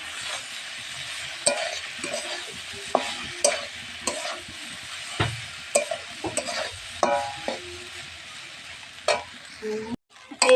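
A spoon stirs flattened rice pulao with egg in a frying pan, giving irregular scraping and clinking strokes over a light sizzle, close and fairly quiet, ending in a brief silence.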